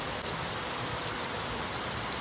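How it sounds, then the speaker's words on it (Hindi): Heavy rain pours down outdoors, a dense, steady hiss of drops drumming on surfaces with no letup, loud and close throughout and no voices over it. "दोस्तों यहाँ हो रही है शानदार बारिश"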